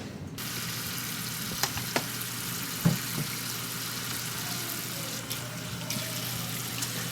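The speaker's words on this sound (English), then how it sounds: "Now we gotta wash the fork." Hot tap water runs in a steady, soft rush at a kitchen sink while a fork is washed, with a few faint clinks of metal during the continuous flow.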